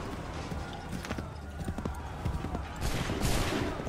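Musket volleys in Assassin's Creed III crack out as a few sharp bursts over a low, busy battlefield bed with hoofbeat-like clatter, growing denser and louder toward the end.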